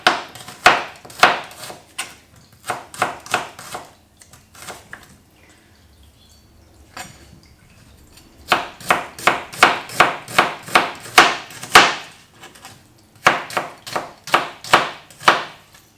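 A knife chops onions into matchsticks on a cutting board, bursts of quick, crisp rhythmic strokes close by, separated by short quiet pauses, with a longer lull in the middle before the rapid chopping resumes.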